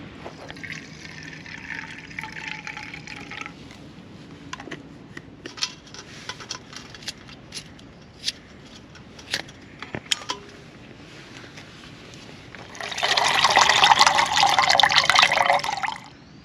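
Methyl hydrate fuel is poured into an alcohol camping stove, heard as scattered small drips and ticks followed by a steady close trickling pour lasting a few seconds near the end.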